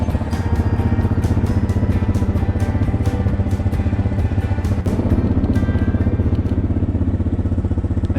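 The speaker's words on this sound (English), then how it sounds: "I love my ATV." A quad ATV engine runs steadily while riding a winter mountain trail, a loud close rhythmic putter with rapid firing pulses and occasional clatter throughout.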